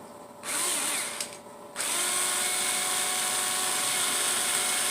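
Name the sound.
small drill drilling a hole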